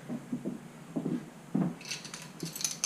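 Keys jingle close by in a campsite on Maui during a bike tour, a short burst of bright metallic clinks near the end after a few soft low thumps.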